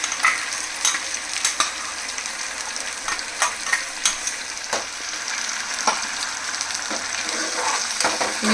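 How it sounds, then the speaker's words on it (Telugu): Tomato puree fries with ginger garlic paste in a pan, making a steady close sizzle broken by regular stirring clinks and scrapes, with no talking. "ఇప్పుడు టమాటా ప్యూరీ కూడా వేసేస్తున్నాను."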